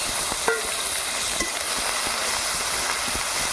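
Chopped tomato hits a hot frying pan with cumin, ginger and green chilli, giving a steady, close sizzle with scattered sharp crackles and a few utensil scrapes.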